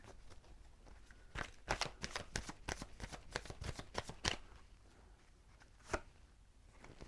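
Tarot cards being shuffled close up, with a run of quick soft riffling snaps and flutters in the middle and a few isolated card slaps afterward, fairly quiet.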